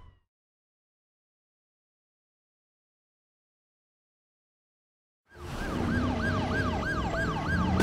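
Silence for several seconds, then a loud wailing ambulance siren from the video game Driver San Francisco cuts in abruptly and keeps sweeping up and down with engine rumble beneath.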